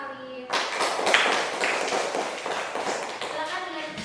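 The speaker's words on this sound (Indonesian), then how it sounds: "Tepuk tangan untuk kelompoknya Mas Alif" Students in a classroom break into brief applause for a presenting group, a burst of scattered clapping and thumps after a voice speaks, fading as talk resumes.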